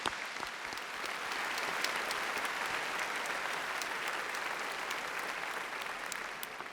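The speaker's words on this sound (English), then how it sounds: "Let's recognize them with a round of applause as well." Sustained, dense applause from a large high school graduation audience for students standing up for recognition, steady and loud throughout with no talk over it.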